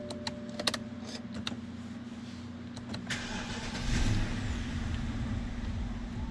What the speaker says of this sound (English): just go ahead and start the car.